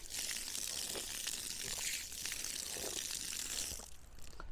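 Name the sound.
water pouring from a drinking water pipe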